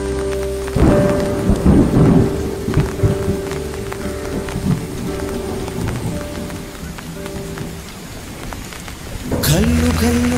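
Heavy rain pours over village rice fields, a loud continuous roar with deep rolls of thunder underneath, intensifying again toward the end.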